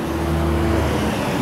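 Car on a street rushing by at close range, a steady engine and tire roar lasting the whole moment, with no speech over it.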